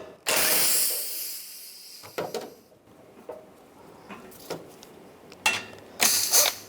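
A socket ratchet clicks in short, close bursts as it loosens the bolts on the covers of a new A/C condenser for a Cadillac SRX, with pauses and small metallic handling sounds between the bursts.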